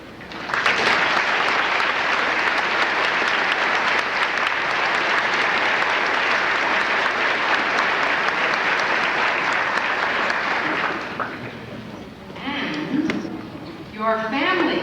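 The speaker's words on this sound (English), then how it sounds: "please rise and receive our applause" Graduation audience at a 1996 Longwood College ceremony applauds the faculty as they rise: a loud, steady wash of clapping for about ten seconds, then fading into a speaking voice.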